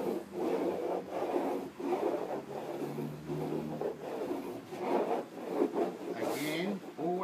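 Kong surf wax rubs onto a surfboard in long, steady strokes, a continuous close scraping swish that rises and falls in repeated passes, with someone talking at times over it.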